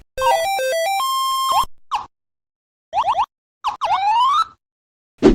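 Beeping electronic game tones from a handheld Brick Game Tetris clone: a stepped square-wave melody, then scattered short blips and a rising chirp, loud and close.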